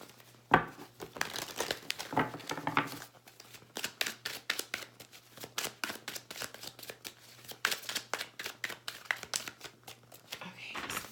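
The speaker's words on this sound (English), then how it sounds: "I'm going to put all the cards out on the table" Tarot and oracle cards being laid out on a table: close, rapid soft slaps, slides and crinkly flicks in an uneven rhythm, with a quiet low hum in the background.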